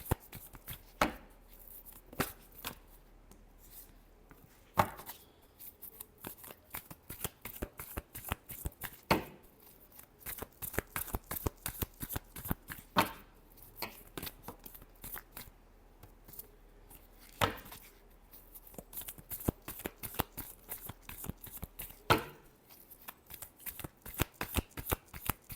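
Tarot cards being shuffled by hand, a long run of crisp riffling and slapping flicks in irregular bursts, close and clear with no talking.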